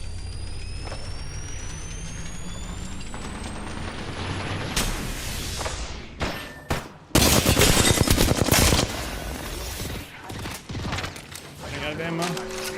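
Apex Legends gunfire in a quads match: rapid automatic bursts and sharp shots, loudest in a dense volley midway, mixed with game effects and someone talking over the action.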